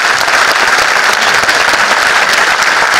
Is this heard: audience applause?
yes